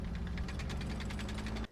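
Panther tank engine idling in the Roblox game Plane Crazy: a steady, close, low rumbling drone with a faint repeating knock. It runs alone without a break and cuts off abruptly at the end.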